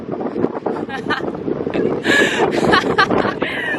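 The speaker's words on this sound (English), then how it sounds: "It's so windy!" Gusty wind buffets the microphone, roaring loudly with bursts that rise and fall, while a voice speaks briefly underneath.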